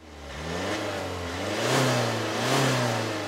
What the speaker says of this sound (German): So hört er sich an, der 2 Liter TDI mit einer doppelflutigen Auspuffanlage